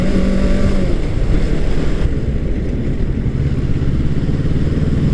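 Motorbike riding along a not-too-busy road, its engine a steady, loud continuous drone with wind rumble throughout.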